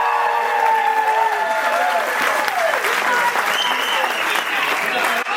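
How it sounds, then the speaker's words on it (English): Wedding guests give the bride and groom, Jonathan and Courtney, a big round of applause at the reception: dense, steady clapping from a large crowd with whoops and voices mixed in throughout. "how about one more big round of applause for Jonathan and Courtney?"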